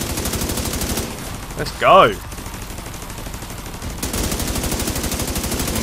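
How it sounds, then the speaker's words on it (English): An automated turret in The Division 2 video game fires a rapid, steady stream of shots, loud and close, and keeps firing for most of the stretch. A voice speaks briefly over it and the rhythm stays constant. "Turret's going to town, man."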